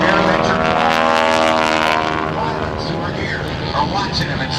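A 220-horsepower aerobatic propeller plane performs at an airshow, its engine a loud, steady, droning roar that swells near the start and eases slightly as it pulls away.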